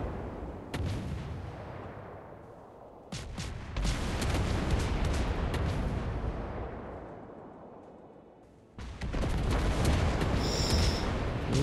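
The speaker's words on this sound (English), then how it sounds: "What a salvo, though." Battleship main-gun salvos in a 3v3 naval video game battle: loud, deep booming volleys with no talking, one bursting out near the start, a heavier barrage rolling on and slowly fading, then another salvo crashing in near the end.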